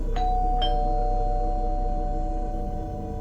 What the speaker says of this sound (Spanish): Insistente, el padre volvió a sonar el timbre.